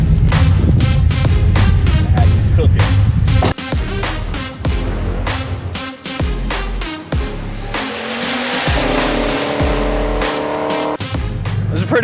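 A drag racing car makes a run at the strip, its loud engine roaring and shifting through gears with sharp revving pulses and tire noise, close and continuous with no talk over it.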